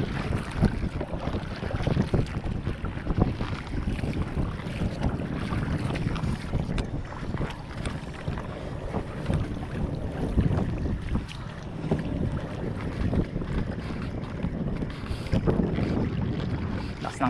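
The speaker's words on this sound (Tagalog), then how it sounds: "Lakas ng hangin." Strong northeast monsoon wind buffets a small fishing boat on open lake water, a loud, gusty roar with rumbling microphone buffeting and choppy water underneath, sustained without letup and with no talking.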